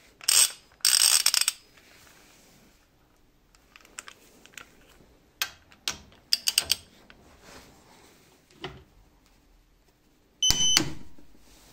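A Lidl torque wrench ratchets while tightening to 80 Nm and its locking screw is set, with sharp bursts of metallic clicking separated by quieter pauses and small handling noises.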